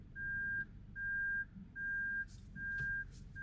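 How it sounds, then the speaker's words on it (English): Reversing beeps from a Perodua Ativa car sound as a high-pitched, evenly spaced series of four long tones with short gaps, clear and fairly close over a low idling background. "Another thing I personally don't like is the car reverse sound."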